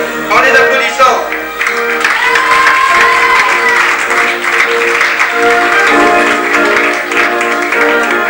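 An audience at an evening inter-sports gathering in a club claps and cheers for a judo team, loud sustained applause mixed with crowd noise and voices talking over it.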